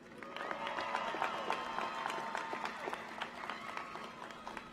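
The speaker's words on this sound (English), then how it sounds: "let's give these graduates the celebration they deserve with a huge round of applause once again" Steady applause from a large crowd at an engineering school graduation ceremony fills the space, a dense even clatter of clapping heard from a distance.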